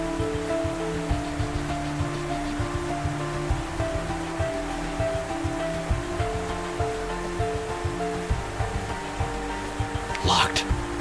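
Running water pours steadily into a shower behind thick glass in a point-and-click visual novel game, a constant hiss of spray with a brief sharp splash near the end.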